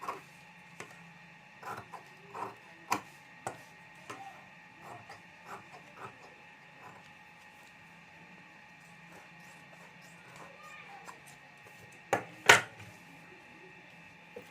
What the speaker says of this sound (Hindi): चारों तरफ से जो ज़्यादा साइड में अस्तर और रबर शीट है उसको मैं कटिंग कर लेता हूँ